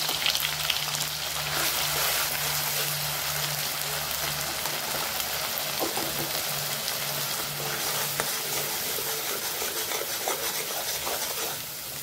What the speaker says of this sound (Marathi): आपण वाटलेला मसाला तेलात परतून घ्यायचा.